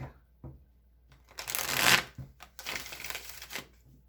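Tarot cards being shuffled by hand in a quiet room: a few soft taps, then two long riffling bursts of crisp card flutter, close and clear, with no voice over them.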